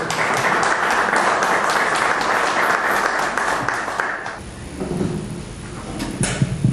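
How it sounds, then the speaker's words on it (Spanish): Audience applause greets a historian and journalist arriving to speak at an evening cultural lecture, a dense clatter of clapping that fills the first four seconds, then thins into scattered claps and room rustle. "lo vamos a recibir con los aplausos"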